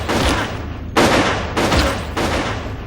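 Gunfire in a 1970s film dream sequence: four loud, sharp shots spaced roughly half a second apart, each with a ringing decay, alone without talk.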